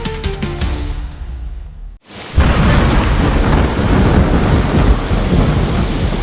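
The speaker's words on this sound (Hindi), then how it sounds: "मैंने सोचा था सिर्फ हल्की बारिश होगी, पर यहाँ तो तूफान आ गया है।" A thunderstorm with heavy rain: a distant rumble fades into a brief hush, then a loud crash of thunder breaks into a dense, steady downpour that continues to the end.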